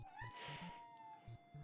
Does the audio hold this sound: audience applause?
no